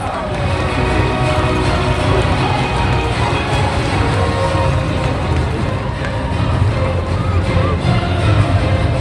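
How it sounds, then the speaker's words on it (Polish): Crowd at a winter games opening ceremony applauding and cheering arriving athletes, a dense continuous roar of clapping and cheers held at a steady level for several seconds. "brawa należą się naszym sportowcom"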